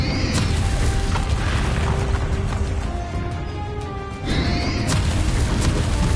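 A Bombarda blasting spell goes off in a Hogwarts Legacy final boss battle, with heavy crashing impacts and mechanical clatter. A louder burst hits near the end after a brief lull.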